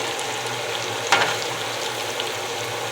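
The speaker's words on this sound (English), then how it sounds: "I want to go ahead and stir it up again so that salt will penetrate through all my potatoes" Sautéed potatoes sizzle steadily in a pan as they are stirred, a continuous close frying hiss with one brief louder scrape of the spatula partway through.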